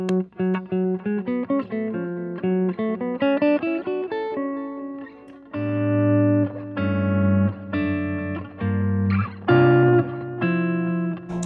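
A clean electric guitar plays a jazzy line of single notes, then fuller chords with a light, gritty overdrive edge from Xotic RC and EP booster pedals, loud and close.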